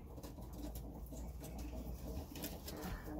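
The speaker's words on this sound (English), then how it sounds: "I hear Broody. Is that Broody in there?" Soft, low pigeon cooing repeats amid a steady background hum, fairly faint and somewhat distant.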